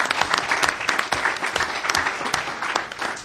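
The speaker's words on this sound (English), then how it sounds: "Would you please give them a round of applause?" Dense, steady applause from a council session audience, many hands clapping at close range for several seconds with no voices over it.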